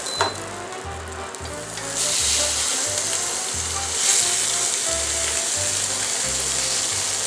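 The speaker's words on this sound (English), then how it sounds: "Really hot cast iron skillet. It's going to be an incredible sear on this." Pork chops sear in melted butter in a very hot cast iron skillet, producing a loud, steady sizzle that swells after a couple of seconds and crackles continuously throughout, with no talking.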